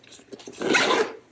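A zipper on a GORUCK M23 Dyneema backpack pulled open with a few short tugs and then one longer, louder close rasp.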